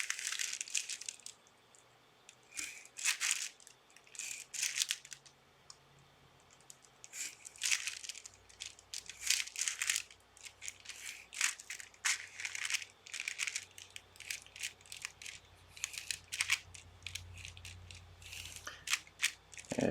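Tracing paper handled and crinkled during drawing, a run of sharp, dry rustles and crackles in irregular bursts, close and fairly quiet, with no talking.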